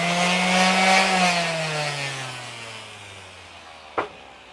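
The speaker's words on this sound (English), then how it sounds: "Still got a sander on the bottom." A Black & Decker random orbital sander hums with a steady motor whine that slowly drops in pitch as it winds down, then a single sharp click sounds near the end.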